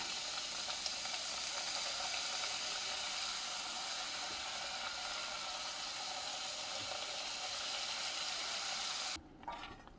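Mini pooris frying in hot sunflower oil give a dense, steady crackling sizzle for about nine seconds that drops off abruptly near the end, with no talking.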